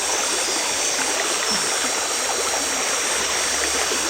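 A cold stream flows steadily outdoors, a constant close wash of rushing, bubbling water that fills the whole stretch without pause or voices.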